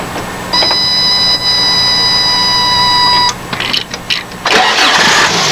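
A 1985 Toyota pickup with a 22R engine cranks with a steady whine for about three seconds, then the engine catches and runs briefly before faltering into rough, uneven bursts, loud and close.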